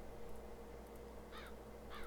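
Crows cawing as ambient sound in Trainz 2022 on the Clinchfield CK Extension route, two short pairs of caws, faint and distant over a quiet low rumble.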